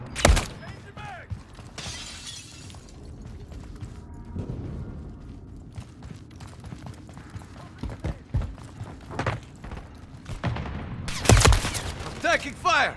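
Gunfire rips through a Call of Duty Modern Warfare 3 match, with sharp, loud shots and bursts spread across the scene. The loudest cracks come near the start and toward the end, among clattering and scattered voices.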